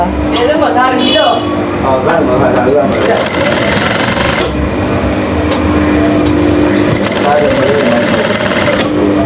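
A domestic electric sewing machine stitches lining fabric in steady, loud bursts, starting and stopping several times, with someone talking over the whirring motor.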